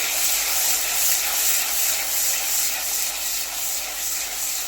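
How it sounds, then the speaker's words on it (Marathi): Tomato puree is stirred into hot oil in a pan while making kaju masala, giving a steady, close sizzling hiss with a soft scraping rub throughout, no talking. "आपण टोमॅटोची प्युरी घालून घ्यायची आहे आणि छान असे मिक्स करून घ्यायचे आहे"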